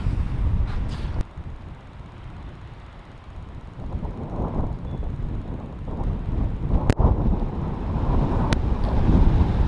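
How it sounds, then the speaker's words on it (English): Strong gusty storm wind by Lake Erie at Crystal Beach, Fort Erie, in January buffets the microphone outdoors, a constant roar with shifting rumble and occasional sharp knocks. "But the winds are really starting to pick up. I can hear the water starting to change."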